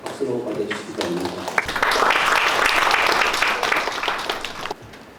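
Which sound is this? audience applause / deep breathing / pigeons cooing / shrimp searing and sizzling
audience applause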